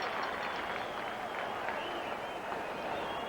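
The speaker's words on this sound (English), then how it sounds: "The crowd saluting the Redskins." A packed stadium crowd at an NFL football game between the Eagles and the Redskins applauds and cheers the Redskins, a steady, dense roar of clapping that holds evenly throughout, with no clear voices above it.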